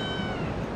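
A tiny kitten found by a roadside gives one short, thin, high meow, close and clear.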